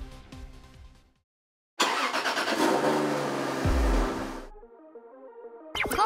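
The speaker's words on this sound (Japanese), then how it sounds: "ドリフトをしながら車1台分のスペースにピタリと止められるか挑戦してもらいます。" A car driven by a 13-year-old drifts into a single parking space, its engine roaring loudly at high revs with a broad rushing burst and tyre noise, then settling to a lower idle before a short final blip.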